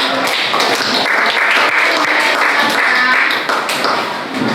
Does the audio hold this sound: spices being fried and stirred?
no